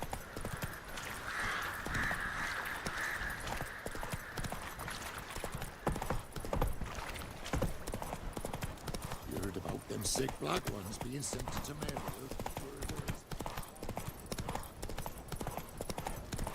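Roach the horse gallops in The Witcher 3 with a rapid, steady clatter of hooves running under a layer of game dialogue throughout.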